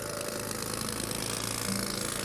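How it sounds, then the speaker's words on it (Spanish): A pneumatic jackhammer breaking compacted rubble as hard as rock at a Celtic tomb excavation, a continuous rattling mechanical drone with steady pounding, moderately loud and alone. "lo que obliga a usar un martillo neumático."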